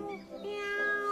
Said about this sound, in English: Help! My cat's stuck up in a tree!